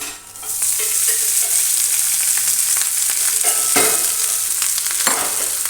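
Rice for jeera rice being stir-fried in a pan, with a steady sizzle and repeated scraping stirs throughout, close and clear with no talk.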